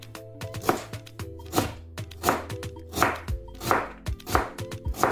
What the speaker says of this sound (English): Just chop it.